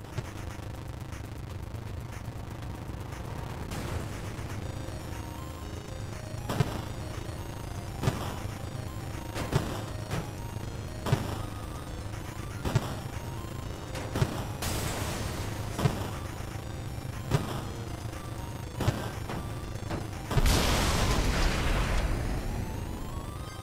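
Tank cannon firing in the video game Saints Row The Third Remastered, a series of heavy booming blasts at regular intervals over a rumbling engine bed, ending in a larger explosion.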